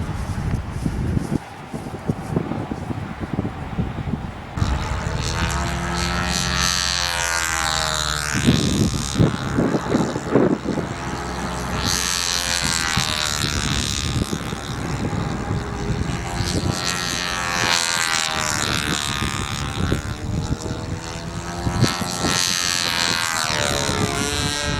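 ARF model airplane in flight, its propeller engine droning loud and close, rising and falling in pitch as it passes and circles repeatedly, with wind noise throughout.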